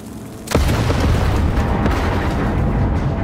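A placed explosive charge detonates in Sniper Elite 5: one loud, sudden boom, then a deep rumbling tail that holds steady for several seconds with no talking.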